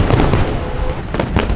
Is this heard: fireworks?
yes